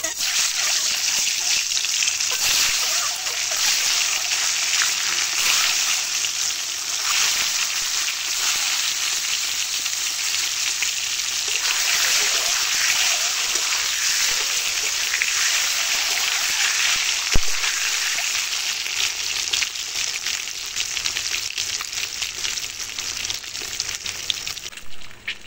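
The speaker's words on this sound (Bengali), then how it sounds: "এখন ডিমগুলো ভেজে নেব।" Eggs fry in hot oil in a wok, with a steady bright sizzle and crackle that goes on close up for the whole stretch, with no talk over it.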